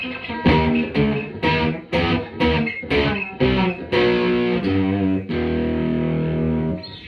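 Distorted electric guitar, a Firefly FFLV, plays a series of choppy chords, then a long sustained chord ringing out, with a gritty fuzzy edge and a background buzz.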